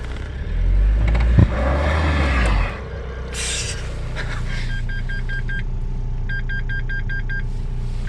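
Renault Espace IV engine revving as the accelerator is pressed with the rear wheel held by the electronic parking brake, a loud low rumble for about two seconds that then drops to a steady idle, with beeping warning chimes afterward.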